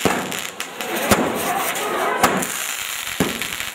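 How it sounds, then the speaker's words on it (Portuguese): Fireworks bursting at a Festa Junina celebration in São Lourenço do Turvo, a few sharp loud bangs spaced about a second apart over a dense crackling crowd-and-festival din. "a bênção dos fiéis no mastro e a queima de fogos de"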